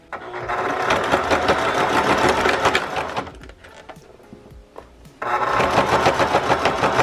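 A sewing machine stitches close to the edge of fabric scraps for small handmade gifts, loud and steady in two long runs with a brief quieter pause between them.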